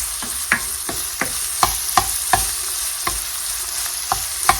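Garlic sizzles in a hot pan with a steady frying hiss, punctuated by about a dozen sharp scrapes and taps as it is stirred.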